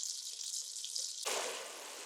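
Tomato fries in oil over a high flame for an Afghani noodle soup, a soft hissing sizzle that suddenly swells louder and brighter partway through, no talk.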